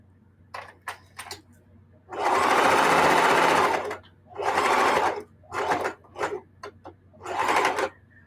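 A sewing machine stitches quilted jelly roll placemats in loud, steady bursts of whirring, with short clicks and pauses between runs and a longer run near the start, ending on a final back stitch.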